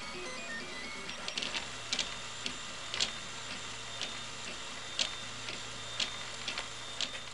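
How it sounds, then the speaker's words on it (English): A 3D printer prints a leg part for a small four-legged walking robot, giving a steady mechanical whir with regular sharp ticks roughly every second, close and moderately quiet, with no talking. "since I really like that one, I am 3D printing it"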